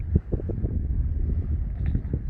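Wind buffeting a small camera microphone outdoors, low rumbling gusts and thumps, fairly faint and steady with no voices.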